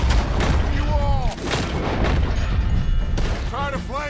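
Booming cannon fire in a Red Dead Redemption 2 shootout during a story mission at Beaver Hollow, heavy blasts rolling over dense gunfire and shouting voices throughout, with sustained loud battle noise.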